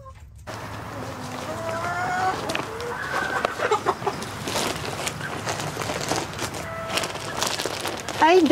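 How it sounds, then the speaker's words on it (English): Chickens cluck and squawk in a crowded farm pen, with several birds calling over one another in a steady, close, busy chatter and one louder call near the end. "You can tell we got more chickens in this pen."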